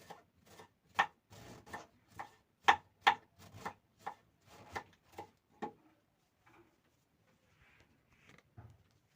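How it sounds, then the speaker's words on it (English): A knife chops cabbage into small pieces on a board, about fifteen sharp, evenly spaced cuts in a quick rhythm, then a few faint scrapes and taps as the chopping stops. "We are going to start by cutting our cabbage into small pieces."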